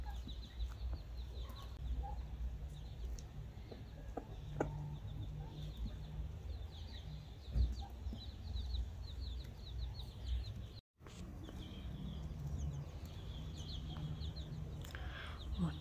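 Hens cluck softly on a farm while a mother hen breaks a carrot into small bits for her chicks. The clucking is faint, scattered and close, over a steady low background hum.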